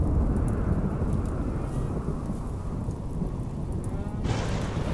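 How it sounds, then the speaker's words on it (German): A RimWorld thunderstorm fills the air with a steady heavy wash of rain and low rumbling thunder, loud and continuous, with no voices. "es fängt an zu regnen"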